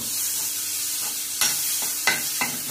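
Thinly sliced onion roasting in a small amount of oil, a steady soft sizzle broken by three or four sharp scraping stirs of a spatula against the pan, close and fairly quiet.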